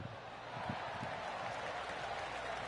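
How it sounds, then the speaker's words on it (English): Light, scattered clapping from a golf crowd in a video game over a steady background murmur, a polite smattering of applause rather than a roaring ovation. "Oh, golf clap."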